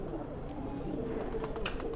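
Pigeon in good condition, lightweight with golden and yellow feathering, cooing softly and steadily through the whole stretch, close by with some background noise.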